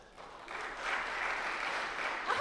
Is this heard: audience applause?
yes